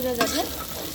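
Browned chicken pieces fry in a hot pan and are turned over, making a steady close hiss with a brief scrape of the stirring utensil near the start.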